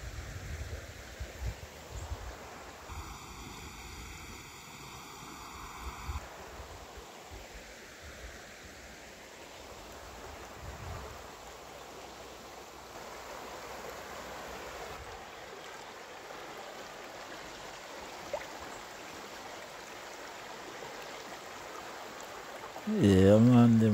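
River water flowing in Jamaica, a steady broadband rush of moving water throughout, moderately loud and close, with a brief tonal beep early on and a louder knock near the end.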